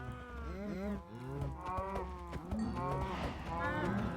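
Several Minecraft cows moo repeatedly, the overlapping low calls coming close and clear in quick succession, with a faint voice underneath.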